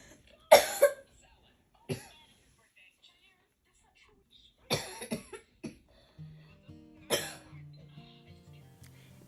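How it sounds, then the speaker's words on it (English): A child coughs in about four separate bursts, sharp and fairly close in an otherwise quiet room, with a faint voice murmuring near the end. "My son thankfully starts improving, but starts coughing."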